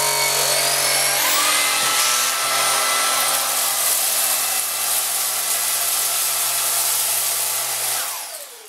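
A Cecotec Rockstar 500 cordless vacuum runs at maximum speed over floor tiles, a loud steady whine with a rising pitch at the start and a winding-down tail as it stops near the end.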